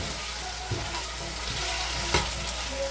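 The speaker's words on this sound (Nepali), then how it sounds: "अब टमाटर हालेर चलाउनु पर्छ। मैले चलाएँ" Tomatoes fry in a pan with pork and spinach, giving a steady close sizzle with a couple of soft scraping stirs of a utensil.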